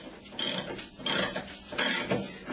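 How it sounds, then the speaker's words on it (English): Motorcycle chain splitter tool being ratcheted, giving three distinct bursts of metallic clicking, each lasting about half a second with short pauses between, close and clear with no talk. "Then ratchet the product up."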